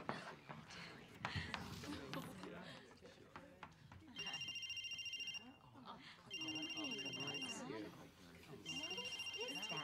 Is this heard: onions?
no